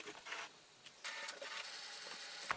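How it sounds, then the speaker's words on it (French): A home printer left switched on, running and making noise indoors, a faint mechanical whirring with short bursts and clicks over a few seconds. "Ça, c'est le bruit de mon imprimante."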